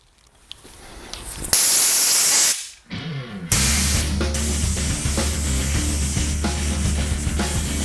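Compressed air blasting through a motorcycle fuel filter from a Moto Guzzi tank in a shop: two loud, sustained hissing bursts, the second one long and steady over a low rumble.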